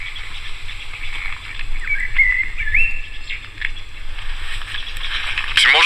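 Birds chirp and tweet in a forest, a bright whistled call rising in the middle among scattered calls over a low steady hum.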